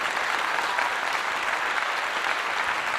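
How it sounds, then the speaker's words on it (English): Steady audience clapping at a community meeting about California reparations, an even wash of many hands at moderate level with no talk over it. "Let's give her a clap."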